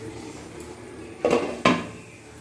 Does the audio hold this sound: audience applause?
no